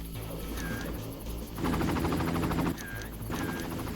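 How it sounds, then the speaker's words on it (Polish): A helicopter in the video game Far Cry 1, played in co-op, gives a steady rhythmic rotor chop with a brief louder burst of noise partway through. "No ten helikopter chyba, nie?"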